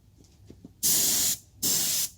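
Spray can releasing paint onto a damaged mag wheel during a dent and scratch repair: two close, loud hissing bursts of about half a second each, separated by a short pause, after a few faint background sounds.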